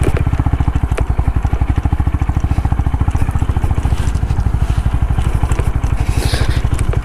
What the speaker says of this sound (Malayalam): എനിക്ക് ബൈക്കിൻ്റെ ശബ്ദം കൊണ്ട് വേറെ ഒന്നും കേൾക്കുന്നില്ല